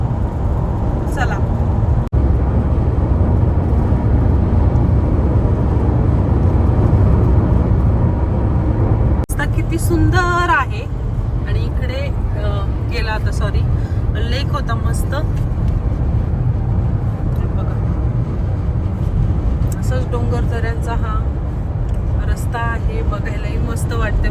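Steady road and engine roar inside a car on a six-lane UK motorway, a constant loud low hum throughout, with a person talking over it for much of the second half.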